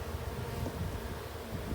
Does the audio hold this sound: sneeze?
no